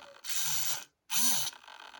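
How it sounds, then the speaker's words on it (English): A steering servo in a Tamiya XV-01 RC car chassis sweeps back and forth, two close, whirring mechanical bursts separated by a short silence, the second rising and falling in pitch as it strains. "I just wanted to test this servo, so just to make sure there's enough room in there"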